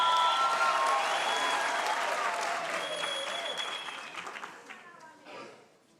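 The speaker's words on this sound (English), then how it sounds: "Can we give the choir a round of applause?" A large crowd at a university graduation ceremony applauds loudly for the choir, the clapping gradually thinning and fading away over several seconds.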